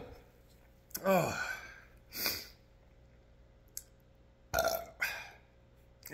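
Burps after drinking Four Loko, a loud croaking belch followed by several shorter burps and gulps, close up with breaths between them and no talking.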